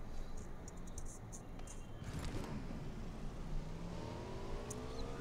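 Supercar engine in the BGMI mobile battle royale game, a steady revving drone with whirring tones under the game's ambient noise and brief effects, continuous and fairly faint throughout.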